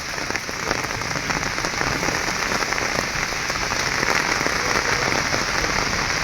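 Rain falls in a village, a dense, even patter on surfaces all around, loud and close, with no voices over the continuous hiss.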